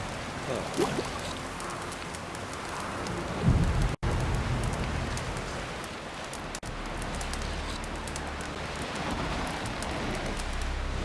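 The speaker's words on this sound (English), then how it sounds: "Rain's back again." Steady rain hisses and patters in the video game The Witcher 3: Wild Hunt, constant and moderately loud, with a couple of brief sharp clicks partway through.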